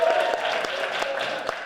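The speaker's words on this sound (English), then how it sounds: "So please give him a round of applause" A theatre audience at a Christmas Carol stage show claps in a continuous, moderately loud wash of applause with a few sharper individual claps standing out, heard alone without talk.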